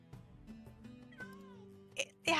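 A cat meowing for attention, several faint short mews under overlapping voices and game sounds, with a louder burst near the end.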